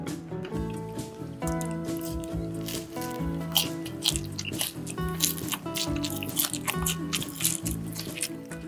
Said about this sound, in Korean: 보시다시피 일반 야끼 만두인데 만두피가 진짜 바삭바삭해요